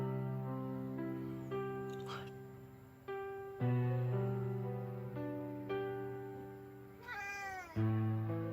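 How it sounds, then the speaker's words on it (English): An ailing house cat on its last day meows repeatedly, about half a dozen drawn-out, tonal cries in close succession, loud and near, with one rising, wavering call near the end. "That was his last meow."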